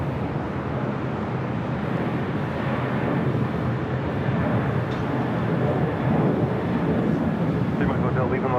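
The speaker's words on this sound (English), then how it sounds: "Delta A321 Neo, our next arrival here on the north side." Delta Airbus A321neo arriving at LAX on the north side, a steady broadband jet engine rumble that swells slightly toward the end, with voices faintly under it.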